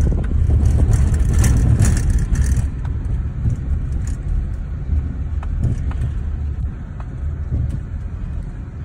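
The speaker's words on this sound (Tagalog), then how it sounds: "Sigurado traffic" Road traffic in Japan rumbles past, loud low engine and tire noise from passing cars swelling at first then settling to a steady drone.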